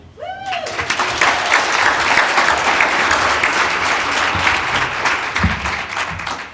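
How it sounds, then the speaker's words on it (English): An audience applauds at a Michigan pitch competition, a dense, steady wash of clapping from a large crowd that holds loud for several seconds after a brief voice at the start. "Another big round of applause for Comcast Business, please"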